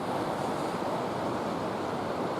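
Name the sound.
French Broad River flowing near Hot Springs, North Carolina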